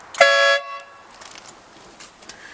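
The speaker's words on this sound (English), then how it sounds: "Always nice to have a loud horn." A pickup truck's horn gives one short, loud, close blast, followed by faint rustling and small handling noises.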